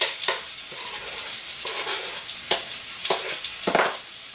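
Potatoes with a teaspoon of lemon zest cook in a pan for a Greek dish, giving a steady close sizzle broken by several scraping stirs, with no voices.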